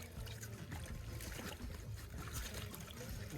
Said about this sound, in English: the way to flood your hose is just to feed it down like this